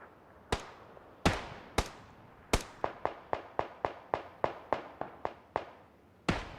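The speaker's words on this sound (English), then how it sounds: "Couple of shots going on." Gunshots in PUBG during competitive play: about fifteen sharp, echoing reports, first spaced out, then in a quick irregular string, each decaying into reverb, distant and alone without talk.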